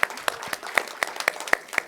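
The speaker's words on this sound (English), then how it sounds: "Round of applause for that." Applause from an award ceremony audience at an ICT summit: a short burst of steady clapping with sharp, evenly spaced claps standing out near the front.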